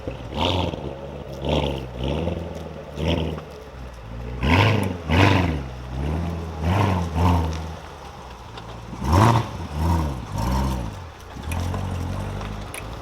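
A tuned car engine revving hard in repeated bursts, each throttle blip rising to a loud, raspy roar and dropping back to idle, close by with no talk.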